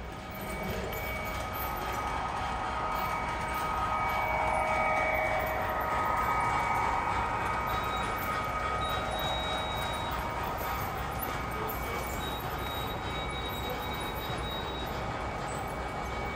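A steady mechanical rumble with a continuous rolling hiss, a model train running along track at a train museum, holding level throughout with faint high whines.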